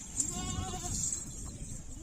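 Machi Cheeni goats on a farm give a single short bleat over a low, steady farmyard background, followed by quieter ambient noise.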